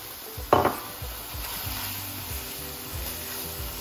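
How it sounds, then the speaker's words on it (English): Garlic and ginger paste dropped into hot oil for keema with peas gives a sharp burst of sizzling, then settles into a steady, quieter frying hiss with faint stirring scrapes, no talking. "And I'm gonna add some garlic and ginger paste."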